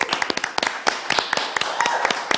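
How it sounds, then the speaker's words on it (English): Awards evening audience clapping, a brief burst of distinct individual claps from a smallish crowd, close and uneven, with no voices over it. "Another round of applause, right?"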